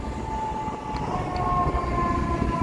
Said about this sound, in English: We got sirens coming here